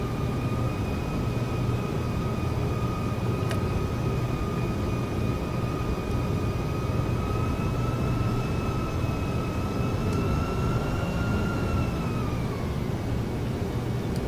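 An AAL airliner taxis off the runway in a flight simulator video game, with a steady engine roar and a sustained turbine whine that falls slightly in pitch toward the end, loud and continuous without talk.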